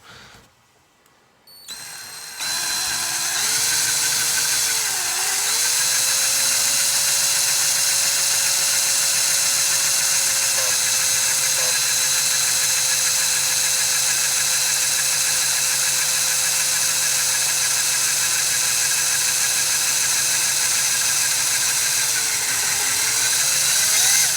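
A power drill whirs steadily and loudly at close range as a screw extractor bit cuts into a stripped screw, a sustained hum with small pitch dips as the load changes.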